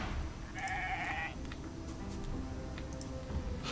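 A sheep bleats in the video game Divinity Original Sin 2, a short nasal bleat near the start followed by faint ticking and soft game ambience underneath.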